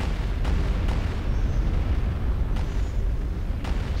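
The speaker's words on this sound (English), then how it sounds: "Bombardment incoming." Orbital bombardment in a Star Wars strategy video game, with a continuous heavy rumble of overlapping explosions and several sharper blasts cutting through the roar.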